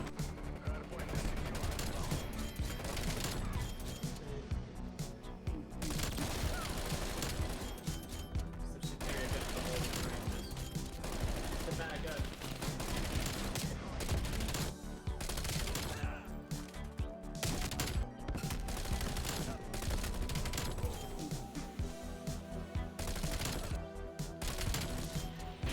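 Bullfrog SMG gunfire in a Call of Duty match, with rapid bursts of automatic shots repeating in clusters over loud game noise and a talking voice.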